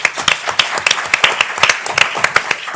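Audience applause during a standing ovation at a New Jersey Board of Public Utilities meeting: a small group clapping in quick, uneven, sharp bursts, fairly close and continuous.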